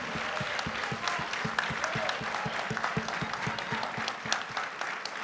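An audience claps for a panel at a National Hip-Hop Honors podcast event marking Beat Street's 40th anniversary, steady dense applause that stays even and fairly near throughout, with no speech over it.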